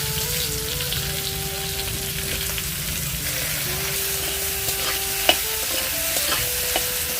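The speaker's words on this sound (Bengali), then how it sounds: "এখন আমি ওখানে যে কাঁকড়া ভাজার তেলটা আছে ওই তেলেই আলুটাকেও" Potatoes fry in oil left from frying crabs over an outdoor clay stove, a steady close sizzle with occasional stirring scrapes and a sharp clink near the end.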